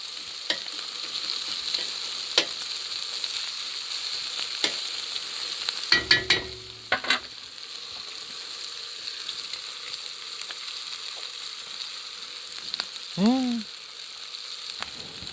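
Paella ingredients sizzle and fry steadily in a pan as the fat renders, with a few clinks and stirring scrapes over the continuous hiss.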